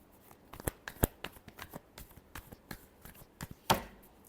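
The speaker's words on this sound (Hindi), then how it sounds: "Last shuffle." Tarot cards are shuffled by hand at close range, giving soft irregular riffling taps and flicks with a few sharper snaps, quiet and with no one speaking.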